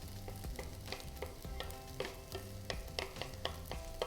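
Kimchi fried rice sizzles in a generous pour of oil in a pan, a soft continuous frying hiss broken by repeated clicks and scrapes of stirring at a quick, uneven rhythm.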